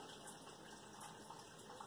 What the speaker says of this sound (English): You probably can't help hearing the fish tank bubbling.